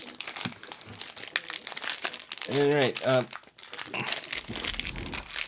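A plastic Pocky snack packet crinkles and rustles in close, busy bursts as it is opened, with people talking over and between the crackling.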